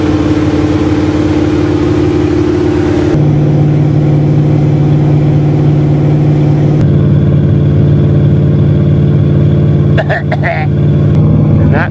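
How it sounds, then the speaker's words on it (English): A 1976 Chrysler New Yorker engine runs at a steady, loud fast idle after a cold start. Its droning hum drops to a lower pitch a few seconds in, with some brief clatter near the end. "That's those gas-sucking fast idles those old 70s cars had."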